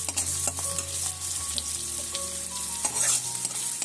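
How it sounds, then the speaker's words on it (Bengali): Chopped onions sizzle in a cup of hot oil while being stirred, a steady close frying hiss with scraping strokes of the spoon against the pan, no voices. "আমি 1 কাপ তেল নিয়েছি, তার মধ্যে হাফ কাপ পেঁয়াজ কুচি দিয়ে ভালোভাবে নেড়েচেড়ে ভেজে নিচ্ছি।"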